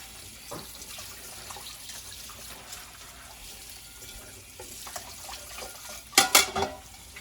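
Plates scrubbed with silicone scrubbing gloves at a sink, with running water and soft rubbing, and a louder burst of scrubbing and dish clatter near the end.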